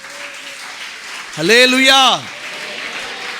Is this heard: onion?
no